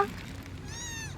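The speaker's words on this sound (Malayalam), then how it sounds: "മീനെ കിട്ടിയില്ലെങ്കിൽ നമുക്ക് പൂച്ച കിട്ടിയിരിക്കുകയാണ്" A cat gives a single short meow, fairly quiet and close, after a brief soft rustle.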